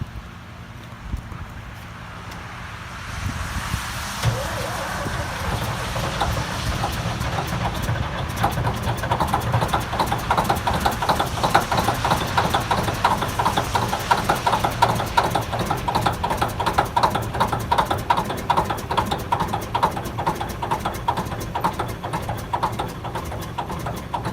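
A cold two-stroke engine on an old toy runs with a steady, busy rattling drone after a quieter start, holding close and fairly loud for the rest of the clip.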